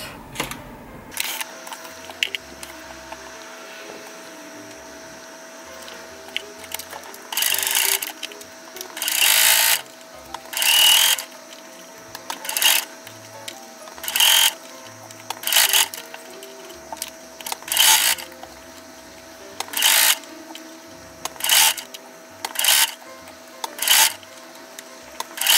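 A sewing machine stitches lining fabric into a crocheted round bag in bursts of rapid mechanical whirring, each run lasting about a second with short pauses between, close and clear against a quiet room.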